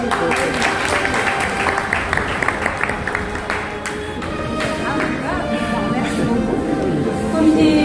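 An audience applauds at an event for a biology department speaker, with clapping mixed with crowd noise, scattered sharp claps and bursts of background music or tones.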